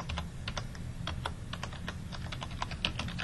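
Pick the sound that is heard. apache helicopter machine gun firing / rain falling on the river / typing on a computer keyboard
typing on a computer keyboard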